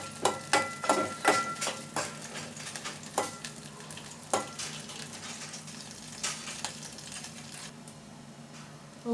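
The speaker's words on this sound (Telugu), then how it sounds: "వెల్లుల్లి పచ్చిమిర్చి యాడ్ చేసుకుందాం. కొంచెం వేయించుకోవాలి ఇవి." Garlic and green chillies sizzle in a hot pan for peanut chutney while a spoon scrapes and stirs them in quick irregular strokes, close and fairly soft.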